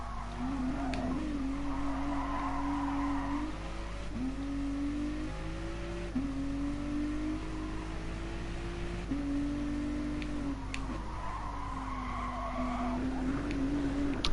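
A race car laps a circuit in Gran Turismo Sport, its engine note rising and falling through gear changes while tires squeal and skid through corners, loud and continuous throughout.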